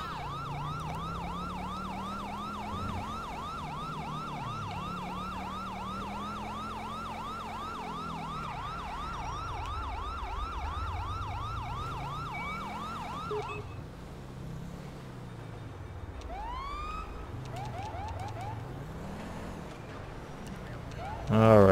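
A police patrol vehicle siren in GTA V with the LSPDFR mod wails in rapid repeating yelps over a low engine drone, then switches to slower sweeping tones, loud and close throughout, with a voice talking over it.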